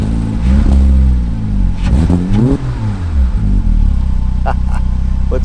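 A Porsche Cayman S 987 with a manual gearbox and a Fabspeed exhaust revs up close and loud. The engine note swells and dips through several throttle blips before settling into a steady, rumbling idle.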